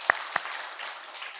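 A church congregation applauds at a youth service, with two sharp, close claps at the start followed by a softer, steady spread of clapping from the crowd.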